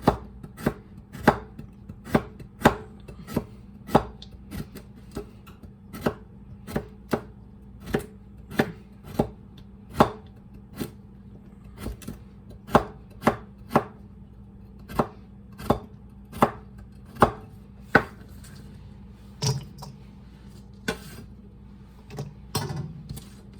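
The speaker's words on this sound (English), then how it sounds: "These 2 carrots are not quite as thick as that other one was, so I'm just going to cut them completely on the bias" A knife chops carrots on a cutting board, cutting them on the bias for an Easter dinner, making steady, evenly spaced sharp thuds close up with no talking.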